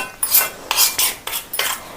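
Quick scraping strokes of a utensil stirring henna hair dye paste in a bowl, about six rhythmic close-up swishes in a row.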